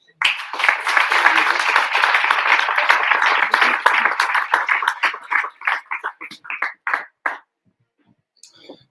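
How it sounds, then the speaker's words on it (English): Audience applause at a Gibraltar business community event, a dense burst of clapping that holds steady, then thins into scattered claps and dies away near the end. "let's give him, our sponsors and partners, a round of applause"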